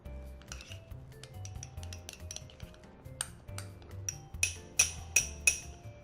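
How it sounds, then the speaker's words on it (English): A spoon scrapes and clinks against a bowl while cracked black pepper and dry rub ingredients are stirred together, with soft scraping that builds into several sharp, evenly spaced clinks toward the end, close and fairly quiet. "we're going to stir that together"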